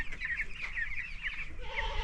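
Nineteen-day-old chickens on a poultry farm cluck and chirp continuously, a busy, close flock filling the whole stretch.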